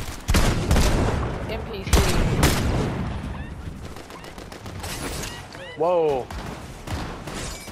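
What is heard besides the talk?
gunfire in the video game Fortnite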